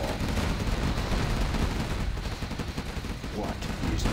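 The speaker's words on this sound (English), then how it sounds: "Gatling cannon is ready." A Chinese Gatling cannon in Command & Conquer Generals Zero Hour fires in a rapid, continuous rattle amid dense tank battle noise, with faint unit voice lines mixed in.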